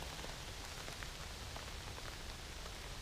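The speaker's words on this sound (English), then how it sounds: "still lots of water coming off the trees every time the wind blows" Rainwater patters down from trees as the wind shakes them, a steady hiss of scattered drops hitting the ground around, fairly quiet and with no talking.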